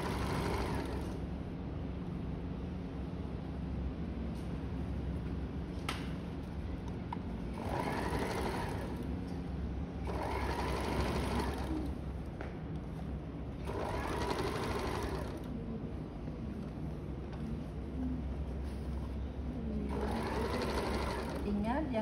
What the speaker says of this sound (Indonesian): ini kita memasang kerah rebah dengan deput dan kumai serong tadi Bu siapkan, ya.